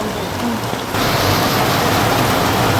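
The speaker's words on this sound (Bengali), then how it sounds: "পুরো বৃষ্টি কি বৃষ্টি আর জল কত" Heavy rain pours down in a steady, loud hiss that thickens and grows denser after about a second, filling the whole clip with no voices.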